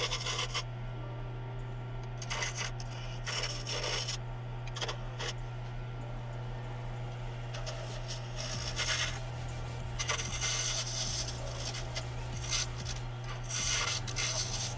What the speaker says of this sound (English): We'll just get them turned down close to the bushings